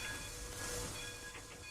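A train in the RO-Scale Sandbox game rolls past a mountaintop with a steady, faint rumbling hiss and a few tonal squeals, heard alone briefly.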